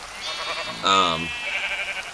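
Sheep bleating in a farming game, one clear, loud bleat near the middle with a fainter bleat-like tone trailing on through the rest of the moment.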